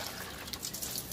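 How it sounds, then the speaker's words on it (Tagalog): Water is poured into a homemade chicken waterer, making a steady, faint splashing trickle throughout. "Lagyan mo ng tubig."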